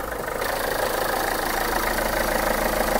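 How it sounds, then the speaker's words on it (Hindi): A 2017 top-model used car with an 85 PS engine idles steadily after starting, a loud, close, even mechanical hum with a rhythmic throb running through the whole clip and no talking. "ये लो भाई, इंजन की कंडीशन चेक करो अब, हो जाती है गाड़ी स्टार्ट हमारी।"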